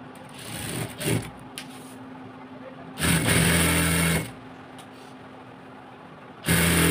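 Sewing machine stitching the seam of palazzo trousers in short bursts, a close whirring run that stops and starts several times with quiet pauses between.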